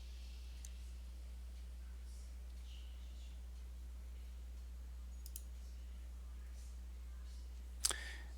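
A computer mouse gives a few sparse, faint clicks over a low steady hum, with one sharper, louder click near the end.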